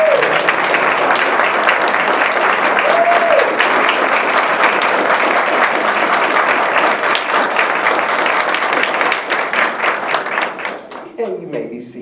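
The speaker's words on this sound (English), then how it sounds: "Would you please stand and let us give her a round of applause?" Loud, sustained applause from an awards audience honoring women of Windsor, dense clapping that holds strong before tapering toward the end, with a few brief voices and cheers mixed in.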